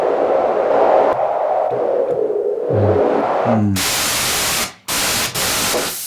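A Korg Minilogue XD synthesizer plays through its digital noise oscillator: a filtered, shifting hiss with low pulsing tones gives way to loud bursts of bright white noise that cut out sharply, with no talking.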